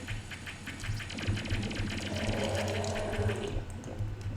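Water scepter magic attacks in the video game Terraria during a Wall of Flesh boss fight, a continuous loud gushing, splashing stream with rumbling game effects layered underneath.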